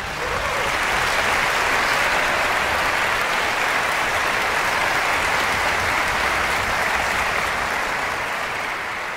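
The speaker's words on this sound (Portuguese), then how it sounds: "maestro Laércio Diniz, para quem peço uma salva de palmas." A concert audience at a classical music anniversary special gives sustained, even applause that fills the whole stretch at a steady level, with no talk over it.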